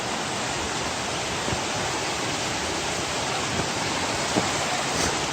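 A forest waterfall in Tioga State Forest roars as a loud, steady, broadband rush of falling water, close and unbroken throughout, with no voices.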